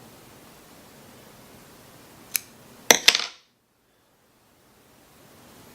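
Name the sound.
cutting fly-tying material in the middle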